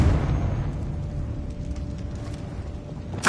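A Confringo blasting spell goes off in the Hogwarts Legacy video game: a deep rumbling boom trails off, and a sharp crack bursts at the very end.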